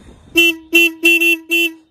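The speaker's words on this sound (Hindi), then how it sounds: "इसका हॉर्न ठीक है भाई हॉर्न काफी पावरफुल है" Four loud, close horn honks from a Royal Enfield Hunter 350 motorcycle's single horn, each a steady bright tone about a quarter second long, the third one doubled.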